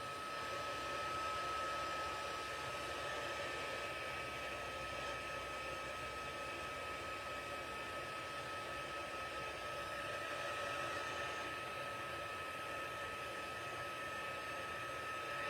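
Heat embossing tool blowing hot air over embossing powder on a card, a loud, steady hair-dryer-like roar that holds unbroken and constant for the whole stretch with no talking.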